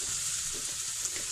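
Vegetables and mashed potatoes frying together in a pan for pav bhaji, giving a steady, even sizzling hiss throughout with no voices.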